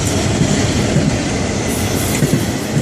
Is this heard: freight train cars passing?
yes